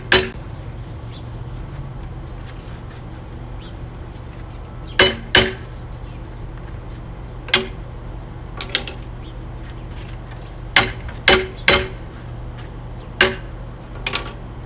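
Sharp metallic hammer taps drive a clamped steel trailer side rail into place on a Harley Sportster 1200 trailer build, single and paired strikes scattered over a low hum, no voices.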